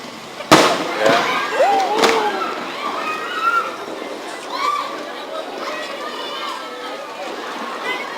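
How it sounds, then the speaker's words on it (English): Two sharp fireworks bangs pop a couple of seconds apart, followed by crackling and whistling, while people talk nearby in the foreground on a busy nightlife street in Angeles City, Philippines. "they're pulling off some fireworks somewhere"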